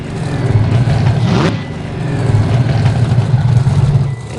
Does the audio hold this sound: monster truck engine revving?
yes